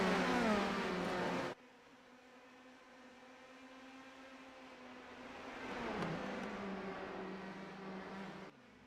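IndyCar race cars accelerating at a green flag restart on Carb Day: a loud roaring burst, then a steady engine drone whose pitch swells and climbs before cutting off near the end.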